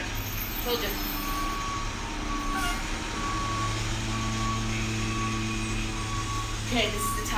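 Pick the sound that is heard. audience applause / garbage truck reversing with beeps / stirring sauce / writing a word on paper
garbage truck reversing with beeps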